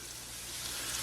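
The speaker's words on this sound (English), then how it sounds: "Hey, see how it's sizzling?" About four ounces of leftover roasted lamb, diced, sizzles steadily in a hot pan, a continuous close frying hiss with no talking.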